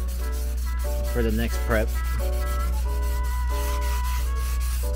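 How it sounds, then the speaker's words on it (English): Sanding on a stock junkyard car fender during prep work, a steady close rubbing hiss with a low constant hum beneath while people talk briefly over it. "So we're just doing a little bit of sanding"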